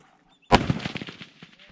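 Long range rifle shot at a precision shooting range in Australia, a single sharp loud crack followed by a rolling, decaying echo lasting about a second, with no talk over it.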